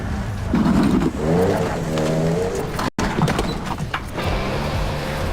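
A small car strains and revs while towing a speedboat, the engine note climbing in steady stepped pulls up close, broken by a brief dropout and with a faint voice in the background.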